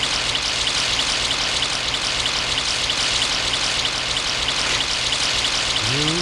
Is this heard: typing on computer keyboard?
no